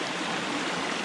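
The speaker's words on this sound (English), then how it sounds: "You do get some scenic water crossings" A mountain stream rushes across a hiking trail on the way up Mount Flume and Mount Liberty, a loud, dense, unbroken wash of water close by with no voices.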